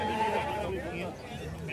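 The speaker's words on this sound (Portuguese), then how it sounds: "Olha o bode aí, pessoal." A goat bleats in wavering cries amid the crowded bustle of a livestock fair in Tabira, Pernambuco, with people talking loudly throughout.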